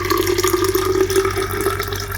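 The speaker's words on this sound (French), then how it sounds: "J'ajoute de l'eau." Water pours steadily into a container while a drink with activated vegetable charcoal is mixed, a continuous close splashing trickle with a faint tonal ring, no talking.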